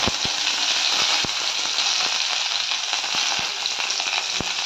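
Mustard seeds and curry leaves crackle in hot oil while tempering for a cabbage dish, a loud steady sizzle dotted with sharp scattered pops, heard up close without voices.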